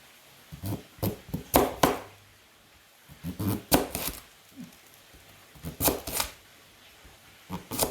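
A knife chops carrots into thin julienne strips on a board, heard as quick close-up bursts of crisp rhythmic cuts separated by short pauses.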